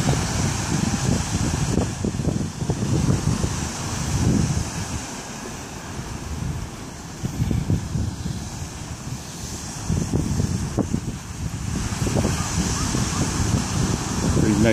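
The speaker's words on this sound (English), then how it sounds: "Pretty nice sized waves." Ocean waves roll in on Myrtle Beach, South Carolina, with surges of surf breaking and receding every few seconds under heavy wind buffeting the microphone.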